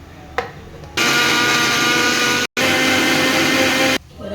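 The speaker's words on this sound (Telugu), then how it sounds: "ఇవి రెండు ఫైన్గా గ్రైండ్ చేసుకోవాలండి" A mixer grinder blitzing coconut powder and a large tomato: a loud, steady motor whine runs for about three seconds, stops sharply for a split second, then roars on again before cutting off.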